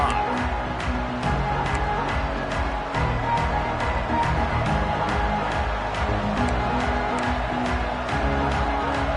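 Loud, dense roar of a Georgia football game crowd filling a stadium, holding steady throughout with scattered sharp claps and shouts poking through the wash.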